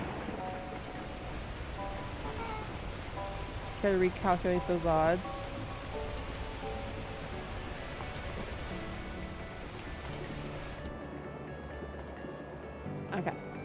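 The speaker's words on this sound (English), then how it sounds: "At that moment, the heavens opened up, unleashing torrential rain." Steady torrential rain in the game Beacon Pines, a constant hiss of downpour that carries on under a spoken line, brief musical chimes, and later thins out near the end.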